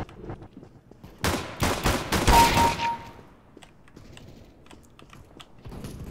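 Dual pistols in a video game fire a rapid burst of sharp shots at close range, followed by quieter clicks and mechanical handling sounds.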